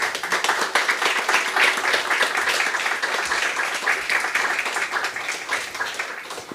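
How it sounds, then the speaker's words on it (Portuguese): Audience applause at an event on Indigenous women, territories and knowledge, welcoming speakers to the stage: dense, steady clapping from a crowd throughout, fading slightly at the end. "Uma salva de palmas,"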